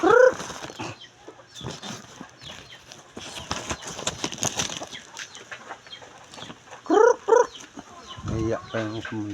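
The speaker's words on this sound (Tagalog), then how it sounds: "Umuwi na yung isa kong manok." Chickens cluck and squawk close by in short bursts, with a louder cackle near the end, while people talk in between.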